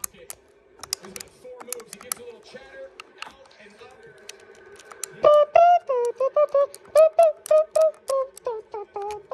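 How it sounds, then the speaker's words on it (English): Rapid clicks of fingers typing on a computer keyboard, first light and scattered, then growing louder with a voice talking and chanting over the keystrokes. "I got to type this in."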